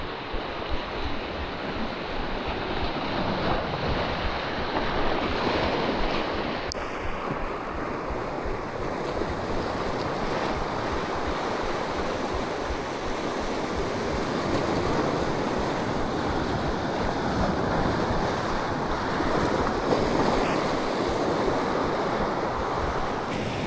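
Ocean waves wash steadily onto the shore at Tinambac during an off-road fishing trip, a continuous loud surf roar with wind buffeting the microphone and no talk.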